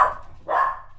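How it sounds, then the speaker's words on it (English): A dog gives two quick, fairly close barks about half a second apart, with near silence around them. "And that was the dog."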